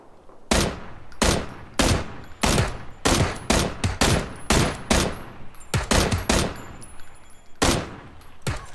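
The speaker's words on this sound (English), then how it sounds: "they're shooting each other." Bursts of video game gunfire as players shoot at each other, a dozen or more sharp cracks in uneven clusters and short rapid volleys, loud and close, with no talking.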